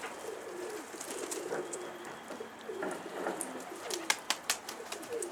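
A pigeon coos softly against an outdoor background, followed by a few sharp patters or taps near the end.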